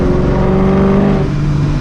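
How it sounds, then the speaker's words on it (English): A supercharged 2V Ford Mustang GT runs close by at a steady cruise, a thin supercharger whine riding over the V8 drone before the pitch drops slightly near the end. "the Supercharger might sound a little bit quieter"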